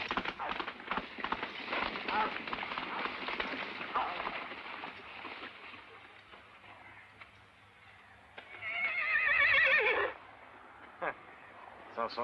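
A horse's hooves clip-clop on the ground in a western film scene, a run of rhythmic steps that fades, then a loud whinny-like burst near the end, with speech mixed in.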